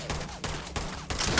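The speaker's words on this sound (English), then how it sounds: "Oh, is this a grenade launcher?" Several heavy weapon blasts from a grenade launcher fired in the sci-fi video game Starfield, three or four loud booming shots spaced out in quick succession, close and dominant with no talk.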